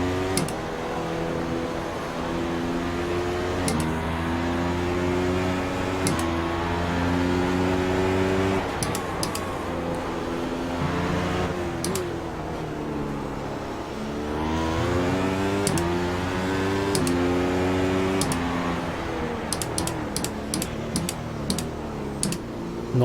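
A race car engine in the iRacing sim at Suzuka, running on worn tyres, holds a loud, steady harmonic drone that climbs and falls in pitch through the corners, with sharp clicks of gear changes and no speech.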